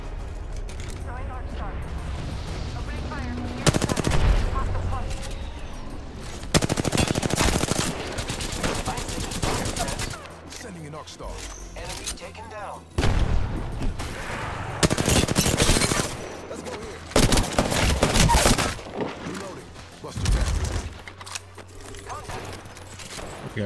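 Rapid bursts of automatic gunfire and shots from a video game firefight, loud and repeated in several volleys across the span, with a player talking between and over them.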